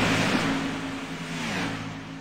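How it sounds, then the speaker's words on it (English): Race cars on the Daytona oval in the iRacing sim, including a Camaro, drone with a loud sustained engine roar whose pitch shifts slightly as they run, with no talking over it. "The sound of these cars are amazing."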